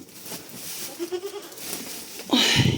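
Nearby hungry goats bleat in short, wavering cries at feeding time, followed by a louder rustling burst toward the end.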